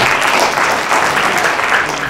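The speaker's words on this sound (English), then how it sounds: "Everyone give him a round of applause." Loud, dense applause from an audience at a young innovators event, continuous clapping filling the whole short stretch.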